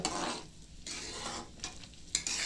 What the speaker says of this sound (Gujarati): હવે દાળને આપણે ઘીમાં એકદમ બરોબર શેકવાનું છે.